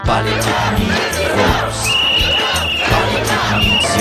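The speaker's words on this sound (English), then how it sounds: "rallying crowds swamp the streets in the biggest anti-Wall Street demonstration" Protesters massed in the streets of New York's financial district at a large anti-Wall Street demonstration: a dense, loud roar of crowd voices, shouting and chanting that swells and rises continuously throughout.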